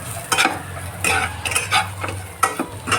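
Bitter gourd sabji with peanut powder being stirred in a pan, a spoon scraping and clinking against the metal in repeated bursts with a faint sizzle underneath.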